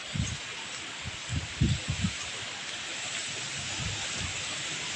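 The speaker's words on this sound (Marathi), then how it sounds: "बघा तुमच्या इकडे आहे का एवढा पाऊस" Steady, dense hiss of heavy rain pouring down, with a few low thumps near the start.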